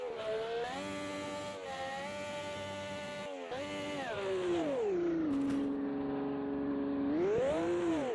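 A V12 Ferrari Formula 1 engine screams through gear changes on the 1971 Nordschleife in a VR racing game, its high whine steady and close, dipping and climbing in pitch between shifts for about eight seconds.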